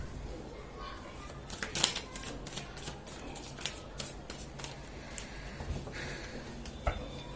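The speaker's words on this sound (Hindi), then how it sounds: "एक दो कार्ड और निकाल लेते हैं गाइस।" Tarot cards being shuffled and drawn, soft close riffles and papery flicks with a few sharper snaps, quiet and irregular, while a voice talks at times.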